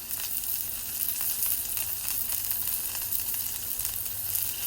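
A well-done ribeye steak sizzles loudly on a hot Blackstone griddle, a dense, continuous crackle with small pops throughout, close and alone with no talking.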